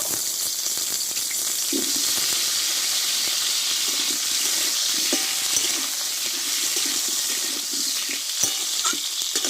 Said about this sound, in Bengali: আবারও আমি অল্প একটু তেল দেব দিয়ে এখানে আলুগুলোকে কষে নেব